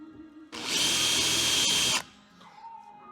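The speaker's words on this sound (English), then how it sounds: "I'm going to find another drill bit and drill all these and drill all them" A power drill bores holes through a panel in one loud, steady burst of about a second and a half, starting and stopping abruptly, with quieter workshop noise before and after.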